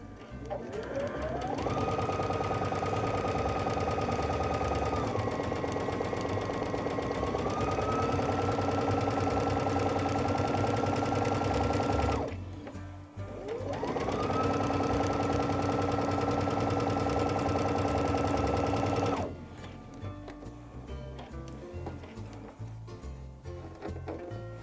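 A sewing machine stitches the seam around a bow-shaped pillow. There are two long, steady runs of rapid mechanical whirring, each rising in pitch as it speeds up, separated by a brief stop and followed by quieter clicks.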